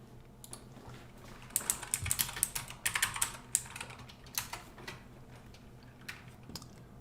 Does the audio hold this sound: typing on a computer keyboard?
yes